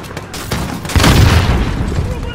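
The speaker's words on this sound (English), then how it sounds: "that's one hell of an explosion" Grenade blast in Call of Duty: Modern Warfare on Hardened difficulty, a loud deep boom swelling near one second and rumbling on through the rest, with gunfire-like crackle in the mix.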